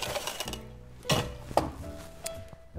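Ice cubes for a gin gimlet cocktail are scooped and dropped into a tin, giving a few sharp close clatters and clinks spaced over a couple of seconds against a quiet background.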